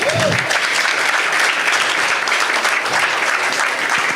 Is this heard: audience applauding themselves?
yes